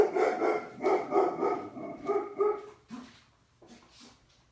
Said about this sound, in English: The dog's barking at me.